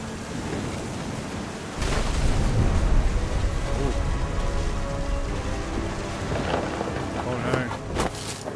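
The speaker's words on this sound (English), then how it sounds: "Thunder sounded much too close and full of angry power." Heavy rain and rolling thunder fill a stormy scene in the video game What Remains of Edith Finch, a steady loud downpour with a deep rumble swelling, while a voice narrates over it.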